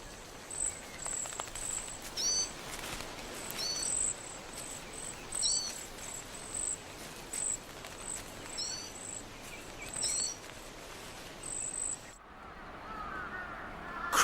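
Crows in a Japanese city give repeated harsh caws at moderate distance over steady urban background noise, the calls spaced through the scene with no voices.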